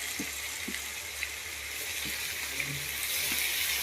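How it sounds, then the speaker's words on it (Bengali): Chopped onion frying in oil in a pan for chicken curry, a broad steady sizzle with a few faint clicks and knocks, moderately loud and continuous without speech. "কিছু পেঁয়াজ কুচিটা দিয়ে দিলাম"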